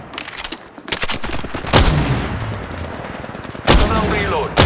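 Rapid gunfire from an Apex Legends match, bursts of loud close shots cracking in quick succession with sharp peaks near the start, middle and end, over a busy background of game noise.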